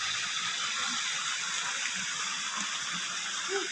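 River water rushes steadily and close by, a continuous full hiss and gurgle with faint low thumps underneath and no pauses.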